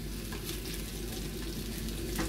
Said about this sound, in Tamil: இந்த எண்ணெயில் வதங்கி கொண்டிருக்கிற வெங்காயம் நல்ல பொன்னிறமாக வந்துட்டுது